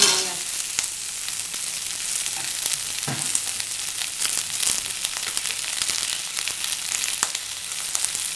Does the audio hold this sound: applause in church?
no